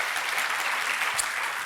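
Applause from a church congregation during a sermon, a steady dense wash of clapping filling the whole moment with no voices over it.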